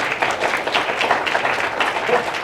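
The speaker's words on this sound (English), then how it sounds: "Clapping is good." Audience applause in a meeting hall, a dense patter of clapping from a group that stays steady and fairly close for the whole stretch, with no voices on top.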